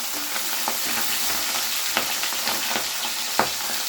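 A piece of hilsa fish deep-fries to a crisp in a pan of hot oil, giving off a steady bright sizzle with occasional sharper pops and crackles, close by and with no voices.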